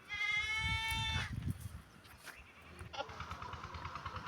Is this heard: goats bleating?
yes